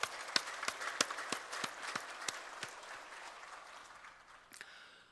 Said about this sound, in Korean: 우리 찬양 받으신 하나님께 영광 박수.